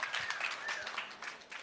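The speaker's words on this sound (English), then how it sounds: "So please, a round of applause for our panelists." Audience clapping for a panel at a Hong Kong finance event, a dense spatter of claps at moderate distance that thins slightly toward the end.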